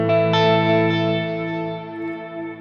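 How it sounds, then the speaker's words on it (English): A live preset on a Fractal unit, an electric guitar chord ringing out with full delay and reverb mixed in, struck twice in quick succession and then sustaining and slowly fading in a wide stereo wash. "we have full delay and reverb"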